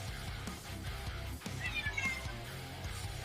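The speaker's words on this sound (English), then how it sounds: "Oh, that's your cat." A house cat meows a few times, faint and somewhat distant, under a steady low indoor background hum.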